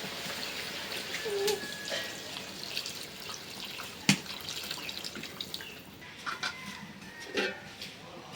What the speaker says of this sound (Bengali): এখন ঝোলের পানি দিয়ে দেই।